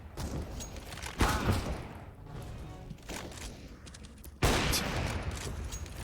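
Gunfire in the tactical shooter CS:GO: two sharp, loud bursts of shots about three seconds apart, each trailing into a busy clatter of continuing fire over a steady background din.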